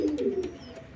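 A pigeon gives a low, soft cooing call, close by, brief and throaty, with no other sounds around it.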